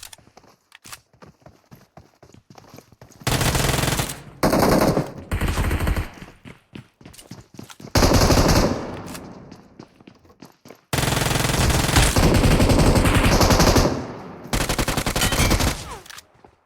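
Video game gunfire in a one-man squad match: rapid bursts of automatic shots in several loud, dense volleys separated by short quieter gaps with faint clicks and movement.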